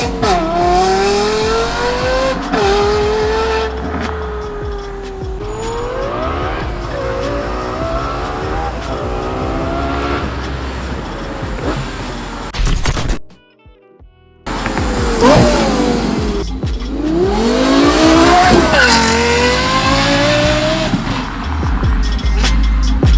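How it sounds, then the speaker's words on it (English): A Lamborghini with a naturally aspirated V12 and a loud custom exhaust revs hard through rising and falling sweeps, screaming loudly and close, with a short silent gap before another aggressive run of revs. "naturally aspirated V12, this engine has been around for many years"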